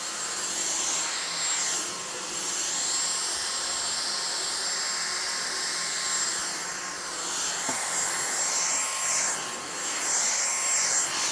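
A Dyson V6 Motorhead cordless vacuum cleaner runs continuously with a steady high-pitched whine and airy rush, close and loud, its tone shifting slightly as it moves across the floor.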